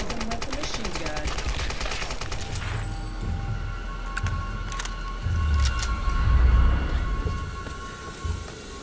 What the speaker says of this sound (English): I'm just gonna surprise them with the machine gun.